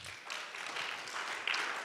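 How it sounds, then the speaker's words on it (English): Audience applause after a talk at a church-related gathering, a steady wash of many hands clapping at moderate distance for the whole stretch, fairly even in loudness with no voices over it. "Let's give the Lord a hand clap."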